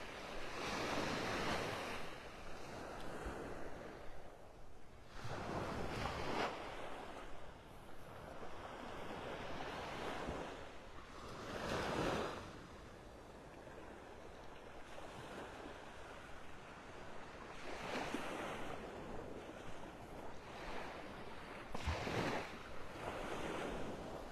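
Ocean surf at a beach in North Naples, Florida, with small waves breaking along the shore as the tide goes out. Broad, steady wash with several swelling peaks of breaking water, mixed with wind noise and no talk.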